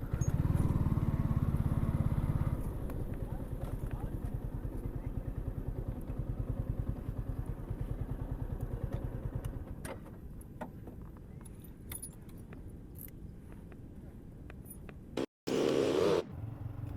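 Yamaha R15 motorcycles from a group ride near Vizag in Andhra Pradesh give a steady, throbbing engine rumble. It starts loud and continues at a moderate level, with a brief dropout near the end.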